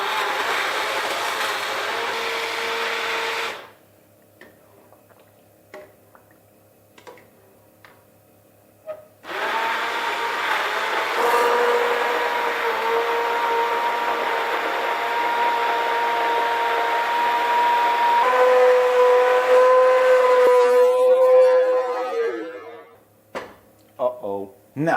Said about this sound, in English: Then I got myself a puree machine.